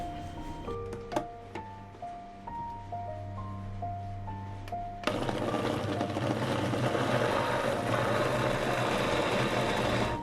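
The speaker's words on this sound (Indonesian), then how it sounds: "Lalu kita blender." Chili, shallots and salt are blended, the motor kicking in halfway through with a loud, steady whirring roar after a few seconds of melodic background music.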